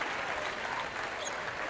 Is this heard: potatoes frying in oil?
no